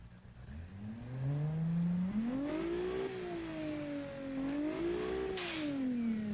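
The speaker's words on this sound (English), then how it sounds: "we can get it to bang as we lift off the throttle" A Group B rally car engine in the Automation game revving up and down, rising and falling in pitch through repeated throttle swells, ending with a brief crackle as the throttle lifts.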